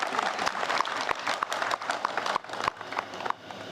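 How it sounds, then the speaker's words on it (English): Wedding guests at a solemnisation ceremony break into applause, a moderate burst of scattered clapping from a small indoor crowd. "can I hear a round of applause for Wei?"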